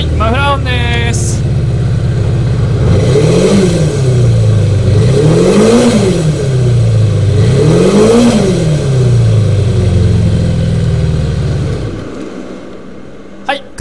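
A Kawasaki Zephyr 400 with its muffler fitted idles close and loud, then revs three times in an even rhythm, each rise falling back to idle. It cuts off abruptly near the end.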